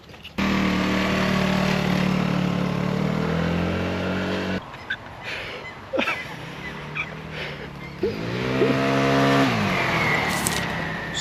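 A small moped engine revs with a buzzing drone, then drops to an idle putter and revs up again, fairly close, on a test drive.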